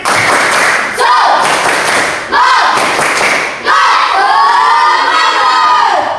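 A class of schoolchildren chanting a rhythmic clapping cheer together, loud group voices in bursts separated by short gaps, with claps and thumps mixed in and shouts rising toward the end.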